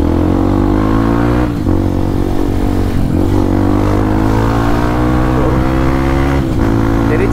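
A Honda CRF150L motorcycle built as a supermoto runs its engine loudly and close by, holding a steady, buzzing drone with a few brief dips and swells in pitch.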